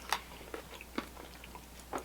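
Crisp crunches of teeth biting into Korean fried chicken, four or five quiet, separate bites spread over a couple of seconds, close to the ear and free of talk.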